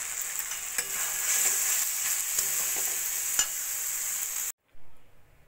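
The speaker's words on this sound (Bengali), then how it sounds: "টমেটো সস দিয়ে এবারে গ্যাসটাকে ফুল ফ্লেম দিয়ে এভাবে নাড়া দিয়ে একদম শুকনো শুকনো করে নিয়েছি" Broad beans in tomato sauce sizzle steadily in a pan over a full gas flame while a spatula scrapes and stirs in repeated strokes, close and loud, before the sound cuts off abruptly near the end.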